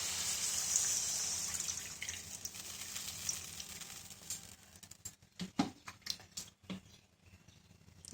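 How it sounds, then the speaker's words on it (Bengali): Water poured into a hot, oily cooking pan for a prawn dish sets off a loud hissing sizzle that gradually fades, followed by scattered soft clinks and stirring taps. "জল দিয়ে দেবো।"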